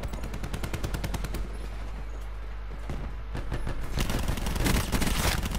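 Rapid automatic gunfire in Call of Duty, loud and close, with rhythmic bursts giving way to a brief lull and then a denser, harsher volley near the end.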